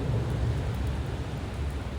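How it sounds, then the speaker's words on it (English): Low, rumbling roll of thunder, sustained and fairly loud, with a soft wash of rain or wind noise over it. "You might hear some thunder as well."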